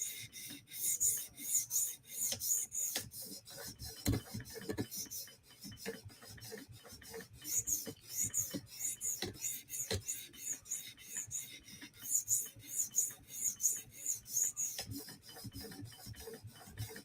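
A PM2 tanto knife blade drawn across a 400 grit sharpening stone at a 17 degree angle, giving repeated short gritty rasping strokes in quick rhythmic bursts, close and quiet, with no talking.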